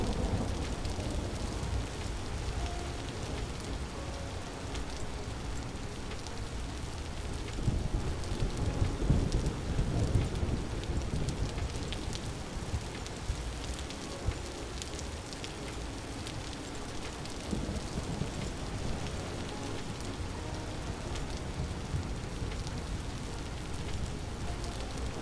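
Steady rain pours down in the Vintage Story game, with low rolling thunder swelling louder around the middle before fading back under the constant hiss of rainfall.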